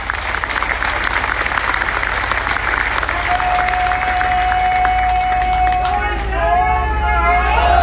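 A protest gathering at Singhu Border, Delhi, breaks into loud, sustained crowd clapping that runs throughout, with voices and babble mixed in and a tonal whistle-like sound rising toward the end.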